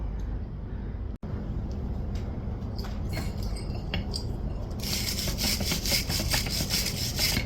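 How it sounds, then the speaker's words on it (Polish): An old restored hand scraper drags across a wooden chair, making repeated rasping strokes at a steady rhythm. The scraping grows brighter and harsher toward the end, heard close up with no talk. "Ja sobie dalej skrobię pokażę Wam jak to działa na tym krzesełku"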